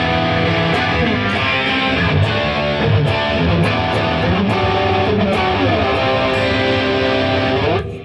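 An electric guitar played through boosted distortion gives a thick, sustained, saturated tone with sliding note runs and bright pick attacks, loud and continuous, with a brief spoken aside.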